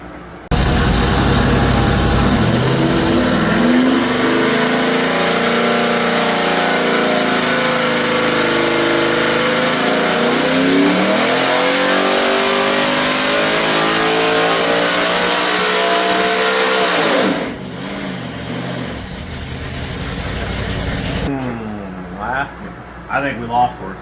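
A powerful LS V8 engine running on methanol with 36 degrees of timing screams through a long rising dyno pull, pitch climbing steadily before cutting off abruptly; voices and a settling engine follow at the end.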